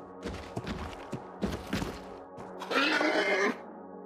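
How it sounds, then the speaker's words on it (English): A horse in a video game gives a few grunts and thuds, then a loud drawn-out neigh near the end, close and clear with no talk over it. "I did not know there were horses on this map."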